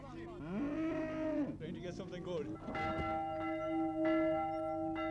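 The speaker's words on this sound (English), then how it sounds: "Bells are booming down the boreens" Church bells ring out during a 1971 fair day in Ballyhaunis, a sustained, resonant peal that follows a stretch of deep lowing from cattle close by, with no talk over it.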